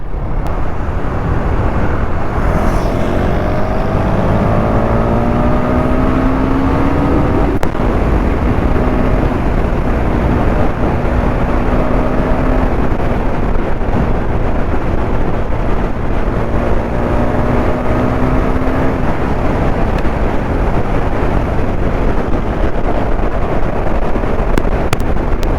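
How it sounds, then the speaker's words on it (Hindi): KTM Duke 390 motorcycle pulling wheelies, engine revving and rising in pitch in a few repeated surges over steady loud wind buffeting. "भाई लोग को दिखा दिए 1-2 व्हीली।"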